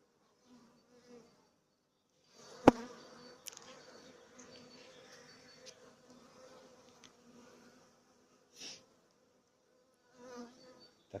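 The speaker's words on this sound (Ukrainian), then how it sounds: "Як приємно, коли по ногам стріляють бджоли." Honey bees buzz around a hive in an apiary in February, a quiet, continuous drone with a few sharp clicks and occasional louder passes close by.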